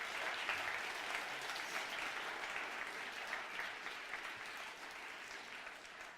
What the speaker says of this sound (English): Let's give Ryan and Neil a big round of applause.